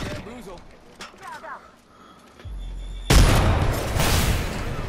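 A grenade in the Apex Legends video game goes off with a sudden loud boom partway through, after quieter stretches of voice chat, followed by a sustained roar of blast and debris.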